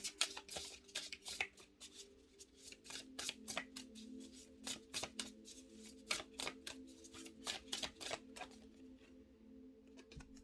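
Oracle cards shuffled by hand, a quiet close series of papery riffles and slaps in irregular bursts throughout, with no voices.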